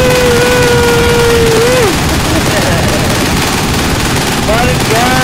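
Rapid, loud automatic gunfire from the video game Dead Island Riptide rattles on continuously, dense and close, with a tonal game sound sliding underneath.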